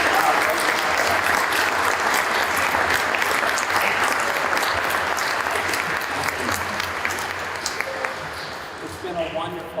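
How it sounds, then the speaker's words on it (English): Sustained applause from an audience at an Americans with Disabilities Act anniversary commemoration, dense and steady for nearly ten seconds before thinning slightly toward the end, with a voice surfacing briefly near the close. "let's have a big round of applause for Yaz and Kyle."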